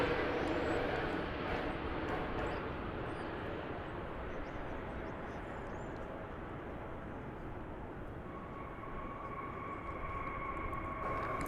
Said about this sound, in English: That was Flight 49 coming in from Charles de Gaulle Airport in Paris.